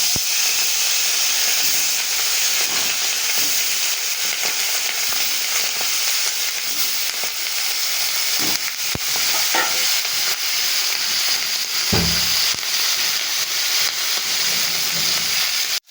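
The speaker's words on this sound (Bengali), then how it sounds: "তেলটা গরম হয়ে গেছে, আমি মাছগুলো দিয়ে দিচ্ছি।" Small dhela fish fry in hot oil in a wok, a loud steady hiss and sizzle throughout, with a few louder spits and crackles, including a sharp burst near the end.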